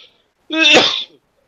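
A single loud, close sneeze bursts out after a brief pause, sharp and voiced, lasting about half a second before quiet returns.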